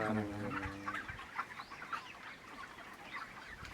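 Broiler chickens cluck in a dense, overlapping chorus inside a crowded poultry shed, fairly close, with a brief low hum at the start before the steady flock noise takes over.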